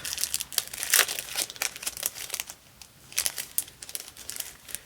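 Crinkly plastic or foil chocolate wrappers being handled while price stickers are peeled off, giving a close, steady run of crackling and crumpling bursts with no talking.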